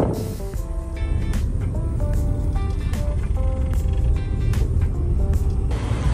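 A crowd of cars at the Mamplasan night meet, a steady wash of idling and passing engines with a loud broadband rumble, sharp intermittent tones and clicks scattered over the top, no clear talk.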